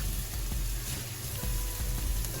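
Green beans, parsnips and onions sizzle steadily in a hot pan, a constant close frying hiss with faint stirring knocks and no voices.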